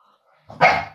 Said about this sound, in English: You're actually barking?